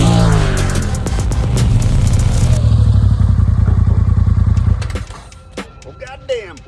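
A 2022 Polaris RZR Turbo R Ultimate side-by-side engine runs loud and close, with a steady throbbing roar and clattery mechanical noise for about five seconds before cutting off, followed by a few faint thumps and brief voices.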